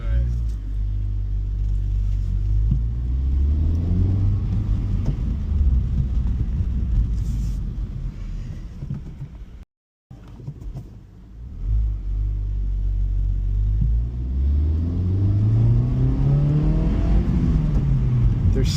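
A 2024 Honda Civic Type R engine revs and rumbles steadily from inside the car while driving, rising and falling in pitch, with a brief cut near the middle; someone talks over it at times.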